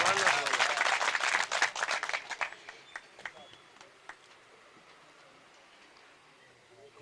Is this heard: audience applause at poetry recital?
yes